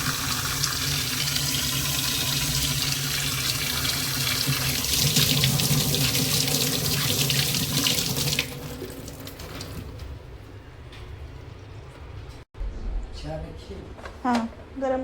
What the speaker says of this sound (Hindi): तो गाइस बांध के हो गया तो मैं धो लेती हूँ हाथ